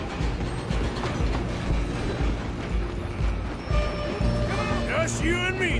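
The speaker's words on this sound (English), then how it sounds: "I'm gonna ride ahead and stop the train." Train rolling along in a Western-style video game, a steady mechanical clatter and rumble running throughout with music and effects layered over it, and people talking over it.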